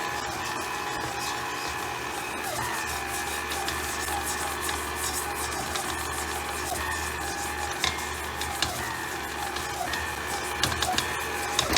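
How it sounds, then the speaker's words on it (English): Electric mixer beating chocolate French silk pie filling until fluffy, a continuous close whirring motor drone with faint scraping and rattling throughout, and no talking. "Now we're gonna mix this until it's fluffy."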